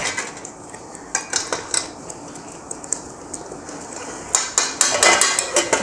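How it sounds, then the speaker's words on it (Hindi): Spice masala roasted in a metal cooking pot, heard as repeated close clinks and scrapes of a spoon against the pot, louder and busier toward the end, with no voices. "मसाला भून रहे हैं।"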